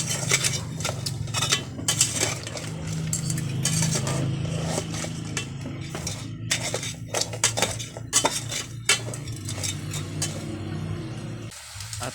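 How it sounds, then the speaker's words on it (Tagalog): Lobster and crabs are stirred with Sprite in a cooking pot, giving repeated metallic scraping and clinking of a utensil against the pot over a steady low simmering hiss, close and fairly loud. "At haluin natin ng maayos para magpantay po yung ating niluluto"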